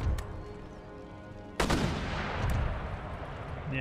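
Mortars fire in an Empire: Total War battle, with one sharp, loud blast standing out amid a rolling backdrop of gunfire and battlefield rumble.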